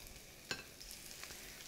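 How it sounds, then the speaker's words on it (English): Almond-crusted fish fillets frying in a hot pan give a faint, steady sizzle with one brief crackle. "I love to hear that sizzle."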